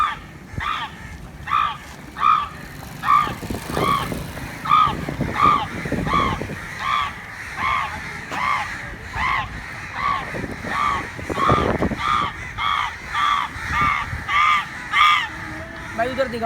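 A young boy in Karachi imitates crow calls to summon crows, giving a long series of loud, rhythmic, harsh caws close up, roughly two per second, with background voices and street noise underneath.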